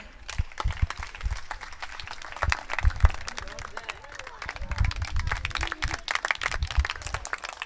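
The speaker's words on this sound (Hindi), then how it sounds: "मुझे नहीं लगता कि तालियां रुकनी चाहिए थी" An audience at an Arya Samaj annual celebration in Delhi applauds, sustained clapping from many hands with irregular sharp claps, fairly close, with some murmuring voices mixed in.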